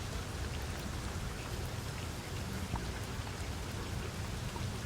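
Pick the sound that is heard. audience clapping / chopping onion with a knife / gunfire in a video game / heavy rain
heavy rain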